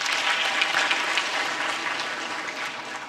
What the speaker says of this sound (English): I'll give a big round of applause to all of them.